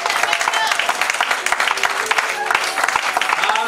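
Church congregation applauding and cheering for the Lord, a dense sustained wash of clapping and voices at steady loudness throughout.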